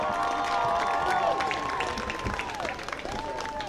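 Fans in the stands at a college football game between Elmhurst and Millikin applaud and cheer for the cheer team's seniors, a broad clapping roar that swells then tapers off, mixed with whistle-like tones and a faint announcer-style echo.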